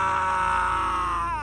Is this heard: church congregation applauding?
no